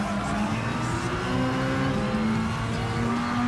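Race cars in Gran Turismo Sport accelerate hard, engines howling with rising pitch through gear changes, a close, continuous loud roar with no talk.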